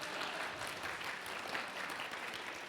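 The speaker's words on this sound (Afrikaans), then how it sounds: "gee 'n verskriklike harde hande klap" Children in a church clap hands loudly together, a dense continuous round of applause lasting a few seconds, fairly distant and even, with no speech over it.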